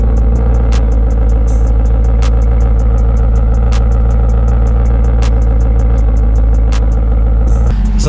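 Maserati GranCabrio MC engine droning loudly and steadily while driving, a constant low mechanical hum with faint rhythmic ticking from inside the car, swelling slightly near the end.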